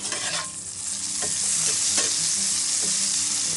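Sausage frying in a cast iron skillet over a camp breakfast fire, producing a loud, close, continuous sizzle broken by several scraping stirs of a utensil against the pan, with no voices.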